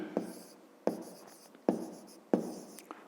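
Handwriting strokes while the answer to a fifth-grade maths exercise is written down come as four short, distinct scratchy bursts spaced evenly apart, close and clear, with no talking.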